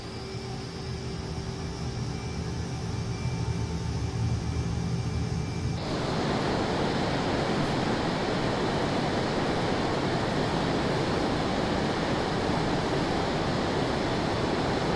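An FA-18 jet at full throttle on the runway in Flight Simulator on Xbox, a loud steady engine roar that jumps to a dense, powerful rushing blast midway and holds there, with no talk.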